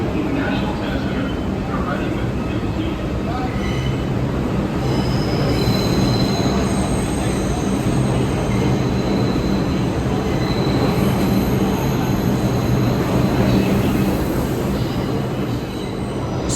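New York subway train wheels squeal high and long over a loud, steady rumble of a moving railcar, with the shrieking tones rising and fading throughout.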